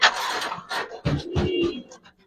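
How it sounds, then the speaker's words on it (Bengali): Pigeons coo at a large pigeon farm with birds kept in pairs, some with eggs and chicks; several low, throaty coos come in short bursts close by, and no one speaks. "সুন্দর একটা কবুতর দেখাবো, বাচ্চা সহ আছে"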